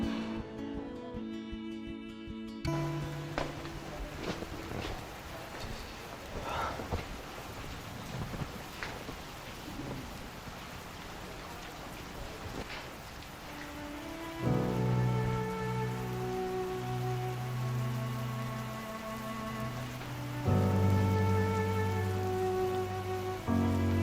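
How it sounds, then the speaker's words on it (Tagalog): Steady video-game rain patters on surfaces throughout, a soft, even wash of drops. Midway, sustained game music tones come in and play over it. "Sir, umuulan."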